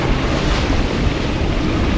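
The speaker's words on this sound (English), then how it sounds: "Pressure from the wind, currents and waves pushed us further and further off the coastline towards the brutal shores." Storm waves and wind at sea during a North Sea winter, heard from a sailing yacht: a loud, continuous roar of surf and gusting wind buffeting the microphone, with no voices.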